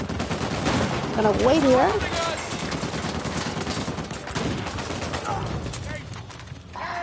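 Enemy gunfire in the action game Uncharted 4 crackles in rapid bursts against a steady combat din while someone talks over it.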